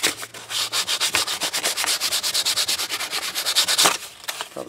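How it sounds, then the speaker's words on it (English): Hand sanding of wood to strip away rotten bark down to the hardwood for a tea light candle holder, loud rapid rhythmic rasping strokes, close up and alone. "I'm just gonna sand that down, get it down to right about where the wood starts to turn into the hardwood that it is."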